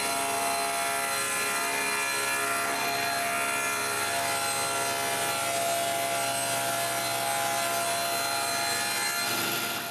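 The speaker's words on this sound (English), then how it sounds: "I start by cutting 2 sheets of plywood of 1/2 inch to size." A saw cuts through sheets of 1/2 inch plywood in a woodshop, a loud, steady, unbroken whine of blade in wood that holds for the full length with no talk.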